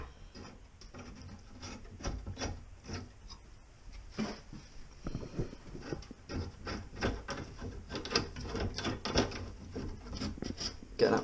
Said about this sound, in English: so you want to undo the nut connecting to the ball valve